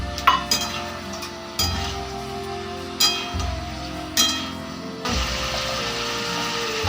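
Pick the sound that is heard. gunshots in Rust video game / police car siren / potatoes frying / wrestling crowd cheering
potatoes frying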